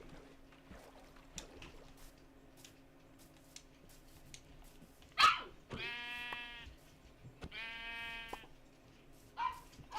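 A sheep in the Minecraft video game gives two distinct, wavering bleats a couple of seconds apart, set among quiet, sparse game clicks and thuds.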